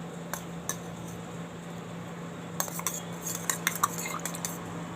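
A spoon stirs milk powder and creamy milk together in a bowl while making a bread sweet, giving several light metallic clinks and scrapes in short bursts against a steady low hum, with no talking.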